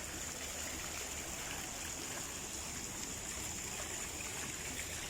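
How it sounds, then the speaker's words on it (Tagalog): Water flows steadily in a stream, a continuous broadband rush and hiss with no breaks, loud and close, with no voices. "Ayun tubig."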